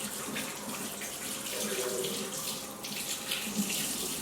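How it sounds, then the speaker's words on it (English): A kitchen tap runs steadily while hands are washed under it, giving a continuous close splashing rush with small shifts as the hands move through the stream. "let me wash my hands first so we can get started"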